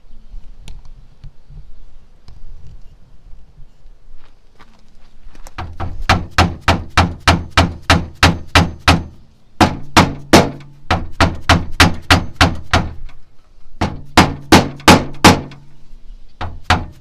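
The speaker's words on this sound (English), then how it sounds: "I'm going to go grab me a soft hammer and see if we can't massage that back in there" A soft hammer knocks a dent back out of a metal plate, delivering fast runs of sharp, evenly spaced blows in three bursts with short pauses between them, close and loud.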